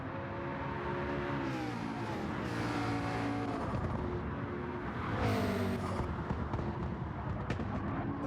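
Race car engines from a simulated motorsport league game, two cars running side by side, a steady loud engine drone with rising and falling pitch sweeps as they accelerate and shift.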